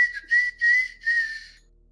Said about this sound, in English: He's just whistling to himself.